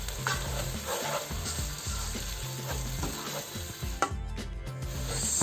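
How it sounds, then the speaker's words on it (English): Garlic, tomato and onion stirred in a hot wok for a lamb and spinach curry, with steady close sizzling and frying and repeated scraping, clattering strokes of a utensil throughout; no talking. "With the garlic and the tomato added to the onion, you want to be stirring this for about a minute."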